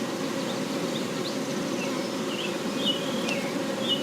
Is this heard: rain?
no